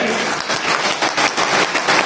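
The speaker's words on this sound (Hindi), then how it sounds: "ताली बजती रहनी चाहिए।" Loud applause from a crowd at a joint BJP and Rashtriya Lok Dal political meeting, with close, uneven bursts of clapping pulsing throughout.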